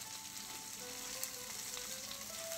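Chicken marsala meatballs browning in a hot pan give a steady, close sizzle of frying with faint crackles throughout, no voices.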